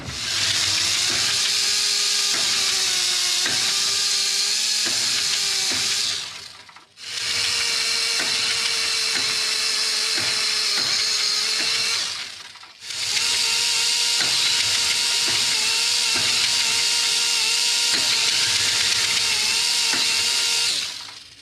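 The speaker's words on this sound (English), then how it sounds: "I'm going to get my Scotch-Brite whiz wheel thing, and I'm going to roll that over it" A Scotch-Brite wheel on a power tool spins over a rusty auger pulley on a 30-inch Craftsman snowblower with an 11 hp Tecumseh engine, giving a loud, steady whirring and abrasive hiss in three long runs with brief pauses between them.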